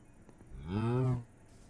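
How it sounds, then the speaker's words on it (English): A cow in Minecraft gives a single drawn-out moo, loud and close, lasting about half a second against a quiet background. "But we can get these cows and the villagers."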